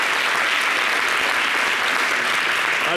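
A TV studio audience applauds in a dense, steady wash of many hands clapping, loud and close, with no pause across the short stretch.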